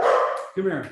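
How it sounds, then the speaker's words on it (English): Dogs bark once indoors at home, a short sharp yip-like bark near the end, with someone speaking just before it. "I would like to apologize for my dogs"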